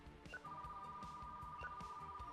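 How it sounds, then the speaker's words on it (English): An office phone rings in the video game Retro Rewind: Video Store Simulator, a steady electronic trill with two short bursts, heard over a low ambient background without speech. "Answer the phone in the office."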